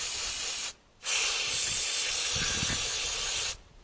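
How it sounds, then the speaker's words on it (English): An aerosol can sprays into an electrical connector on a Kawasaki Mule utility vehicle, two loud, close, sustained hissing bursts separated by a brief pause, with no voices. "Spray it in there."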